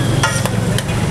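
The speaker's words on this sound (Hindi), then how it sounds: "बढ़िया तरीके से इसको उछाल उछाल के मिक्स किया जा रहा है" Basmati rice for tava pulao is tossed and mixed on a hot griddle, a loud, dense sizzle and scrape lasting about a second without a break.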